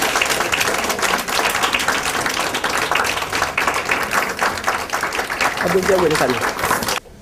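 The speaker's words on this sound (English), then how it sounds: "one more round of applause for Natasha and the kids, please" Sustained applause and clapping from a crowd fill the clip, dense and steady, with a few voices calling out near the end.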